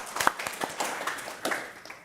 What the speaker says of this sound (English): just give a round of applause for that